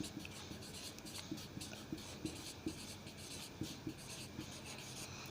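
Pen scratching steadily across paper while writing, a soft continuous rasp with small rhythmic strokes over low room noise, no talking.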